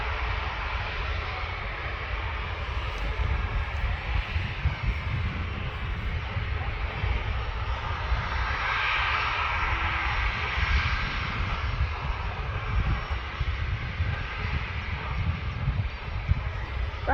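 A fixed-wing airliner's engines roar steadily at Manchester Airport, a constant broad rumble heard from a plane-spotting spot that swells slightly midway as an aircraft passes, with no talk over it.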